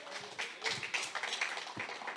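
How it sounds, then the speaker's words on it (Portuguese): Church congregation clapping loudly during a worship service, a dense patter of overlapping hand claps with a few sharper taps, steady throughout without voices. "Aplauda forte ao Senhor."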